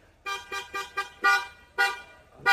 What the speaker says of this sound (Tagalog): Busina pa lang mga boss.